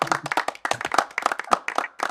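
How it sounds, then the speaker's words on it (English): Brief burst of clapping from a small group of hands welcoming a guest onto a live online show, with uneven, distinct claps rather than a dense roar, close and fairly loud. "Let's give applause there"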